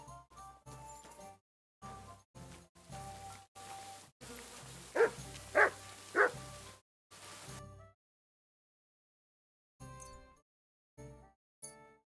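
A dog barking in the medieval video game Kingdom Come Deliverance 2, three sharp barks close together midway, set among intermittent bursts of game sound and buzzing ambience separated by quiet gaps.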